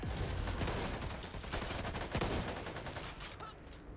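Rapid gunfire fills a zombie-shooting session in the video game Back 4 Blood, a dense rattling fusillade of sharp, overlapping shots throughout, fairly loud and continuous.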